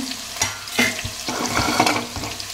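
Spices dry roasting in a pan for a village-style country chicken curry, with close scraping and stirring strokes over a light crackle, no voices.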